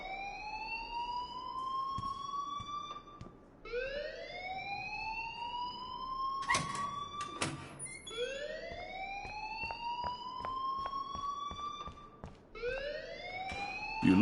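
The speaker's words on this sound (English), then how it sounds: "please turn off that alarm since that's your job" Repeated rising electronic alarm whoops from a video game on PS4, each sweeping up and holding before restarting, loud and continuous with a few clattering bursts mixed in.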